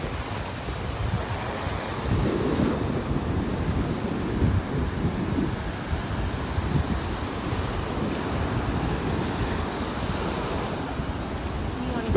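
Strong wind buffets the microphone on a beach in North Naples, Florida, with a low roaring rush of surf and waves rolling beneath it continuously.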